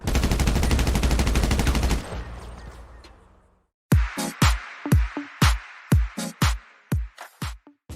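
A Special Carbine rifle fires in GTA V. A dense, loud automatic burst lasts about two seconds and fades into a tail, then a brief pause gives way to a quick series of separate, punchy shots.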